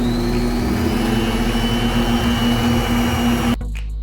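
An electric mixer beats butter and sugar for a pineapple upside-down cake, a steady loud whirring motor drone that cuts off abruptly near the end.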